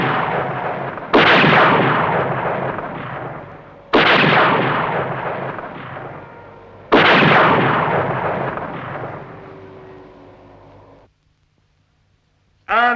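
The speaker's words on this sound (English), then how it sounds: "And what are you shooting at, idiot?" Cartoon gunfire aimed at a flying machine: three heavy, booming blasts, each trailing off in a long rumble, followed by silence and a sudden burst at the very end.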